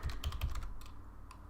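Fingers type on a computer keyboard with a quick run of close, crisp key clicks that thins out into a few scattered taps toward the end.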